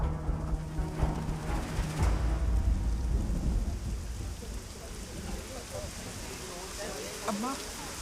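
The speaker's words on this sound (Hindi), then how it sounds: "चल बारिश हो रही है अम्मा" Steady rain pours down with low rumbling beneath, while voices talk faintly in the background.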